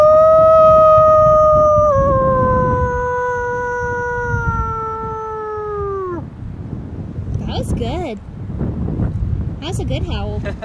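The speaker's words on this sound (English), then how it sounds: "A good howl." Long, loud animal howl outdoors on a windy day hike along cliffs, one sustained gliding note that fades out, with wind rumble throughout and voices and shorter cries afterward.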